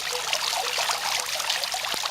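Water splashes and spatters steadily in a fountain, heard up close as a continuous bright rushing trickle with no voices.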